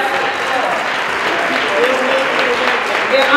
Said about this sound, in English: Give Mr. Lawrence Camp another round of applause.